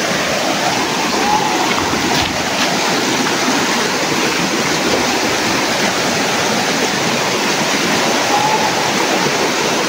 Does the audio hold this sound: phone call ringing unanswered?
no